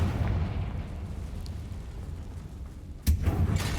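A fiery Confringo blast spell bursts in Hogwarts Legacy, a sharp loud boom near the end that rings over a steady low rumble of game ambience and music.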